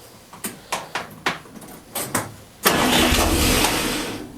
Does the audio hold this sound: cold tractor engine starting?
yes